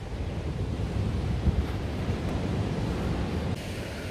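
Sea waves wash steadily onto a horseshoe-shaped beach, a continuous broadband surf roar with some wind buffeting the microphone, fairly close and without speech.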